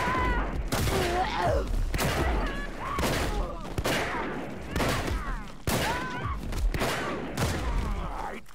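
Rapid gunfire from the video game Paint the Town Red, a run of loud sharp shots in irregular bursts with booming tails, with voices talking over the shooting.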